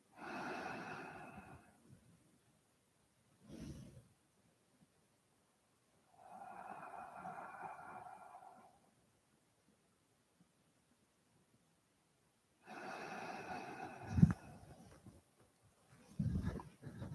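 Slow, deep breaths drawn and released in a quiet space during a guided meditation, three or four separate breathy passes spaced apart by silence, close to the mic, with no talking.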